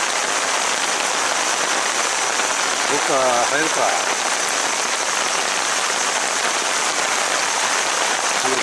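Heavy rain pours steadily over Nara Park as a loud, dense, unbroken hiss. A person speaks briefly partway through.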